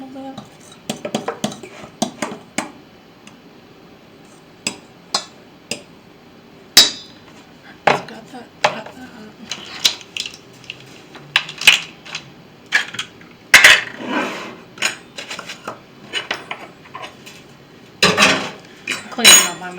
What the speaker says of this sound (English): Alright, I'm gonna mix that in a little bit